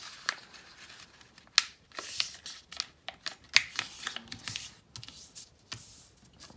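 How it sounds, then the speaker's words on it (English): A 15 cm paper square being folded by hand into a corner bookmark, heard as close, quiet paper crinkles, creases and soft taps arriving in irregular short bursts, with no talking. "You fold over one corner."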